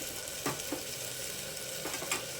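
Tomatoes fry in a pan with soaked chana dal for a bottle gourd gravy. A constant bright sizzle holds steady, with a few sharp spoon scrapes and clinks against the pan, close and alone.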